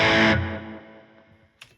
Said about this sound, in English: there's just that really subtle delay coming from the flashback, which just adds that little bit more wash to it for single note stuff